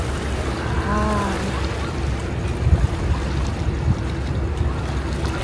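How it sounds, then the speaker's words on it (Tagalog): Water slapping and lapping along the Kobe waterfront at night, a steady close wash of small waves with wind rumble, plus a short, faint voice partway through. "Ang ganda ng hampas ng tubig."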